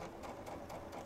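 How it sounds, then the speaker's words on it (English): A sewing machine runs steadily for a brief moment while backstitching a seam on a plush stuffed horse, giving a quiet, close, rhythmic mechanical whir. "I'm gonna backstitch just a little bit to give some strength"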